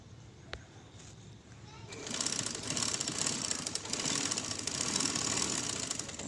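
A sewing machine stitches a sleeve, starting after a soft click into a steady close whirring run that continues for several seconds at moderate volume.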